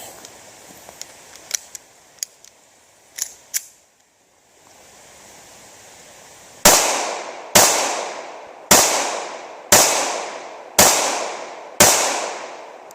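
Ruger LCP II compact pistol fired live, a few faint pops and then six loud sharp gunshots about a second apart, each ringing out briefly in an open outdoor setting.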